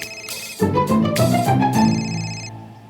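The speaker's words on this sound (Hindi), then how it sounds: "रोज इसी टाइम फोन करके मुझे डिस्टर्ब करते हैं।" A phone rings for an incoming call with a bright electronic melodic ringtone, a few clear notes rising and falling over three seconds, loud and close with no voices.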